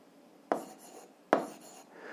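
An equation is written by hand during an algebra lesson, two short close scratchy strokes of pen or chalk, each with a quick attack and a brief trailing scrape.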